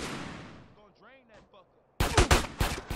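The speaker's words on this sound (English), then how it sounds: "Yo, who's shooting me?" Gunfire in GTA San Andreas erupts in a loud rapid burst of shots near the end, after a quieter stretch with game sounds and a voice.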